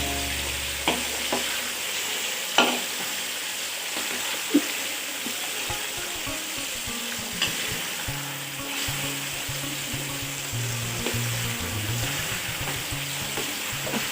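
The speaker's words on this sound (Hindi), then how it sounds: "मछली को तब तक फ्राई करें जब तक इसका पानी खुश्क ना हो जाए।" Steady loud sizzling of fish frying in a hot pan, close up, with occasional scraping and stirring sounds throughout.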